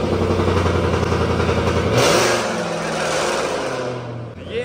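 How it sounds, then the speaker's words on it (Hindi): A Ford Mustang with a modified exhaust rumbles nearby in a deep, loud idle that rises into a brief rev and then settles back. Faint voices can be heard in the background. "ये नॉर्मली ऐसा है कि मॉडिफाइड एग्जॉस्ट है, गाड़ी स्टार्ट है ट्रैक्टर एग्जॉस्ट।"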